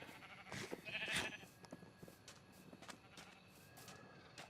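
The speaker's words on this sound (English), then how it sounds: "All right, sheep, come on." Sheep in the video game Minecraft bleating, a few short bleats near the start followed by quieter scattered game sounds, faint overall and with no talk.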